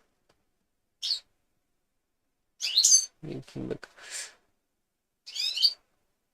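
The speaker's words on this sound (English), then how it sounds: "And birds are here." Birds chirp outdoors in a few short, high calls spaced apart against near silence, with a person briefly speaking between them.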